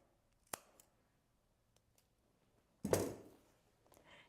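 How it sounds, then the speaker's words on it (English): Scissors snip sewing thread during wig construction, a sharp single click first, then a louder rustling cut a couple of seconds later, in a quiet room. "come back off and cut your thread"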